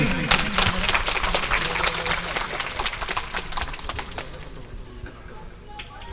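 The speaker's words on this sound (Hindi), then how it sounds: "ठीक है ताली दे प्लीज" Applause from an audience at an Odia Badi Pala folk performance, a dense wash of claps that starts loud and thins out toward the end, with some background noise.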